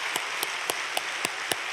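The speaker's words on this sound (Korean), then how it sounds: "우리 박수로 그렇게 맞아주시기 바랍니다." Congregation in a church sanctuary clapping during a Sunday worship service, a steady dense wash of many hands with a few sharper individual claps standing out at a regular beat, moderately loud and without talk.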